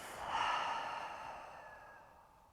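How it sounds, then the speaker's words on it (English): A single long, soft exhale through the mouth during a yoga cooldown, a breathy rush that swells quickly, then fades gradually over a couple of seconds, close and quiet. "Let's breathe in through the nose. And then exhaling out through the mouth."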